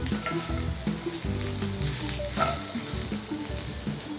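Potato pieces sizzle and fry steadily in a hot pan, a constant crackling bed of oil with occasional stirring clinks and scrapes, close and moderately loud, no voices.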